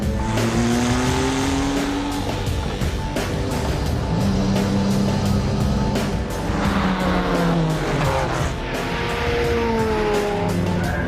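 A Jaguar XJ220 sports car engine roars and revs loudly on a track, pitch climbing and dropping through gear changes, with brief tire squeal as it drives hard.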